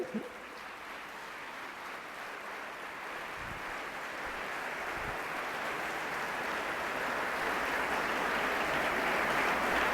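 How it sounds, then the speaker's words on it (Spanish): A church congregation gives steady, sustained applause in praise during a sermon, a broad even wash of many hands that slowly swells louder over ten seconds, heard at some distance. "Dele un buen aplauso a Él."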